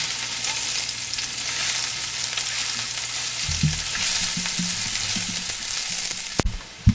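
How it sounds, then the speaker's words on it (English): Sliced onions and pimento peppers fry in a pot for curry goat, a steady, even sizzle throughout with a few stirring knocks and scrapes in the second half and a sharp clank at the end; no one talks. "sliced onions and pimento peppers, or you can also use hot peppers if you like. And cook until the edges start to turn a light brown color."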